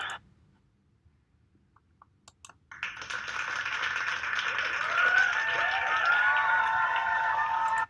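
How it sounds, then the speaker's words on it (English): Library sound effect of a big crowd applauding, starting after a near-silent stretch with a few faint clicks, then a sudden onset of dense, sustained clapping with cheers and whistles that stays loud to the end. "I need a sound of a crowd clapping"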